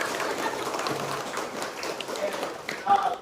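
Children clap their hands together during a classroom counting and concentration exercise, a dense patter of claps running steadily throughout with a voice talking over it.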